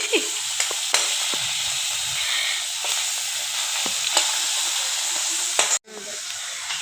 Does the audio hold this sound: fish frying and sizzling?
yes